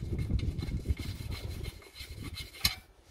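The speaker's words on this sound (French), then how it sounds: "On enlève notre écrou." A nut is worked loose from the steering ball joint on a VW Golf 4, giving a close rough rubbing and grinding of metal that fades toward the end, then one sharp knock.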